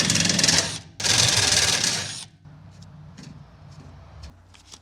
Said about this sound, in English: I'm gonna put a riv nut, a 5/16 by 18 riv nut